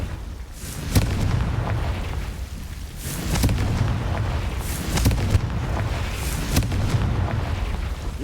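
Confringo fire spell blasts in Hogwarts Legacy, several heavy booming explosions spaced a couple of seconds apart, each a sharp crack over a loud rumbling bed of game ambience.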